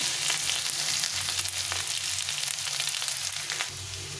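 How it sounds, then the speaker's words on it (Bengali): Potatoes and onions frying in a pan, a bright steady sizzle throughout with faint stirring scrapes, close and unbroken, with no talking. "আলু আর পেঁয়াজটাকে একটু লাল লাল করে ভেজে নিতে হবে।"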